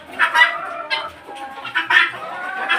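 Chickens cluck on a poultry farm in uneven bursts, several close birds overlapping in short busy phrases with brief pauses between.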